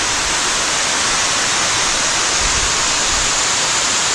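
Titi Waterfall, with only a modest flow of water, pours in a loud, constant broadband rush that stays steady and close throughout, with no voices.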